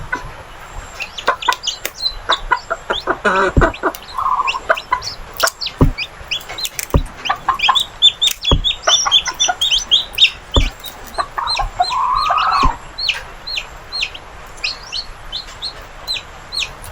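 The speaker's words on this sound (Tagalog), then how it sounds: "Rhode Island Red, mga kaparmas." Rhode Island Red chickens on a farm cluck and chirp steadily at close range, with sharp peeps and scattered knocks and taps throughout.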